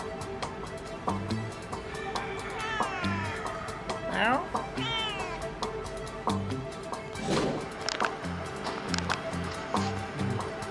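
A cat meows repeatedly in a house, several drawn-out rising and falling calls mixed with people talking in the background and scattered clatter.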